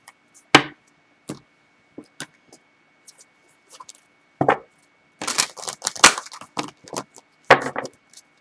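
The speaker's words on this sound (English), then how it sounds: "I'm having trouble shuffling." Tarot cards shuffled by hand in short, uneven bursts of crisp flicking and slapping, sparse at first and then clustering into quicker riffles toward the end, close up with no talking.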